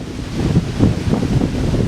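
Strong gusty wind at the pier in Geelong, Victoria, roaring and buffeting the microphone in a loud, continuous low rumble with no voices.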